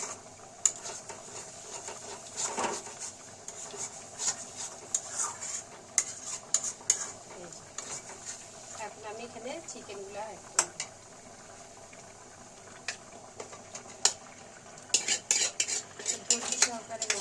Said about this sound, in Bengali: আমি অনেক নাড়াচাড়া করে এটা কষাইতে হয়